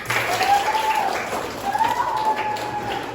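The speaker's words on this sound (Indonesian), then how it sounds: "semuanya silakan dulu tepuk tangan berdiri semua" Brief burst of applause from a group, scattered claps over a faint background tone, fairly quiet, without clear speech.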